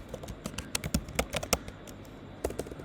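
Fingers tap on a computer keyboard in quick, uneven bursts of crisp clicks, close up, with a brief pause before a final short flurry of keystrokes.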